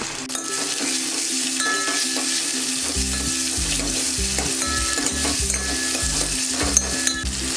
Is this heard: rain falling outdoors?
no